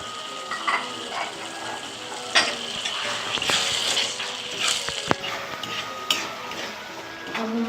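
Tomatoes added to frying chicken for a village-style chicken jhol crackle and sizzle in the pan, with repeated scraping and clinks of a spoon stirring against the metal, fairly close and loud.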